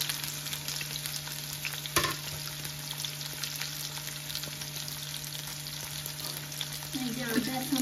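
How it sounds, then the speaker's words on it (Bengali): Bitter gourd frying in a pan with potatoes gives a steady close sizzle lasting several seconds, with one sharp clink of a spatula partway through and stirring scrapes near the end. "করলাটা ছাড়বো।"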